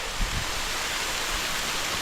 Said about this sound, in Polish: To jest ten wodospad.